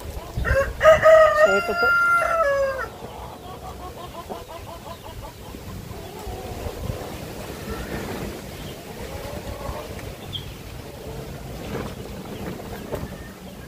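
A show-type gamefowl chicken gives a short burst of clucking vocalizations near the start, then quieter background noise continues under brief talk.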